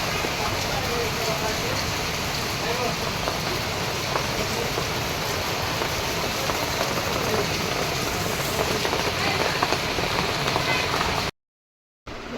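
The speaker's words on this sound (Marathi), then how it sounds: "रे बाप भयंकर पाऊस पडतो" A downpour of heavy monsoon rain roars loudly and steadily, drops hammering on nearby surfaces, then cuts off abruptly into a brief silence near the end.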